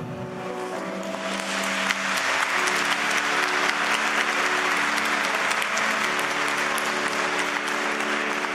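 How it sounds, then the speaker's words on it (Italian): A church congregation at a Good Friday service bursts into loud, dense applause for Jesus, the clapping rising after a moment and holding strong and steady to the end. "manifestiamo, anche se venerdì santo, l'amore a Gesù con un forte applauso"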